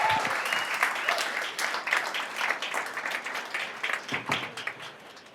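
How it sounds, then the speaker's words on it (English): A round of applause from the audience at an after-work startup gathering in a Microsoft Reactor venue, dense clapping that starts strong and slowly thins out, with some voices mixed in. "let's just have a round of applause for all of the folks that have made tonight possible"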